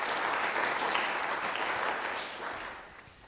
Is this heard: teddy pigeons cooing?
no